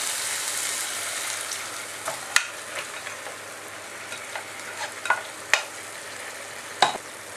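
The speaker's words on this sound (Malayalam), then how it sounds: "മട്ടനും കൂടി ചേർത്തിട്ട് ഇത് നന്നായിട്ടൊന്ന് ഇളക്കി കൊടുക്കുക." Mutton is stirred into kadai masala frying in a pan, a steady hiss broken by scattered scrapes and knocks of the spoon.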